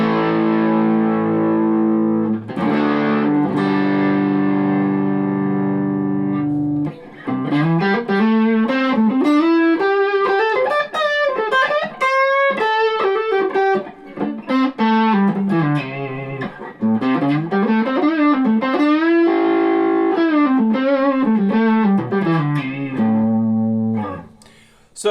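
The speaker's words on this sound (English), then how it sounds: "So here we have the neck pickup with a distorted tone." A Squier Bullet Strat electric guitar played through its neck single-coil pickup with heavy distortion, a loud, sustained lead line of bending, singing notes and quick runs, close and alone, with a thin, buzzy edge.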